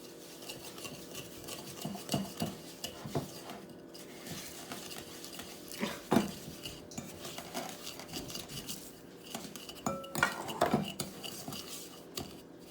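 Cake batter stirred in a bowl with a utensil, heard as faint, irregular scraping and clinking strokes against the bowl, close by and with no voices.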